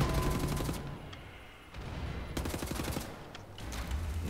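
Rapid bursts of automatic gunfire from conventional weapons in the shooter game Wolfenstein: The New Order, loud and close, arriving in several sustained volleys with brief pauses between them.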